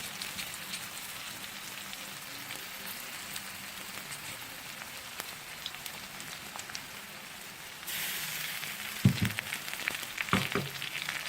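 Onion with ginger garlic paste sizzles and crackles in a pan with a steady hiss that grows a little louder toward the end, with a few brief stirring knocks.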